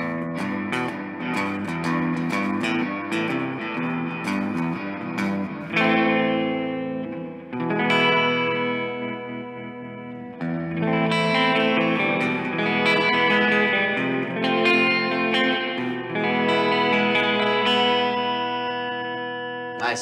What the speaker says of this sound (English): Nice, a pretty warm reverb,